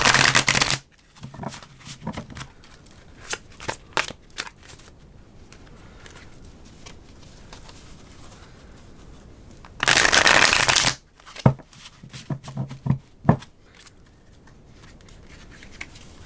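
Tarot cards are shuffled in a few quick riffling bursts, with one long loud shuffle near the middle and softer card taps and slides between them. No one talks.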